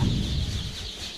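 Fifteen-day-old Egyptian Fayoumi chicks give a steady, fairly loud wash of cheeping and clucking that runs throughout with no talking.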